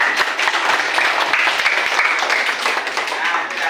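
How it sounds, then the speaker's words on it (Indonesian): Applause from a group in a classroom, dense steady clapping throughout, loud and close, with some voices mixed in. "Oke, beri aplaus dulu"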